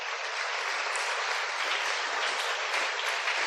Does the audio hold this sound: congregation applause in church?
yes